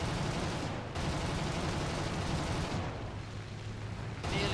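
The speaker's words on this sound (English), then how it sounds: "I slam in my guns, take my time, set him on fire" Aircraft guns fire in War Thunder in dense, sustained bursts, a loud crackling rattle that pauses briefly twice before resuming, with no talk over it.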